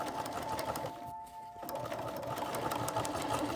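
A sewing machine stitches a seam on a fantasy tabard costume, its fast rhythmic whir running nearly the whole time with one short pause, close and steady.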